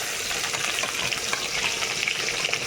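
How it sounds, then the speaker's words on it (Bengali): Dried red chilies and chopped onion fry in hot oil in a pan, giving a continuous bright sizzle with small crackles throughout, close and steady, no voices. "তেলে একটু শুকনো লঙ্কা দেবো আর একটা গোটা লঙ্কা দেবো তেলের মধ্যে একটু পেঁয়াজ কুচি"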